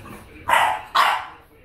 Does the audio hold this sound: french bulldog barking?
yes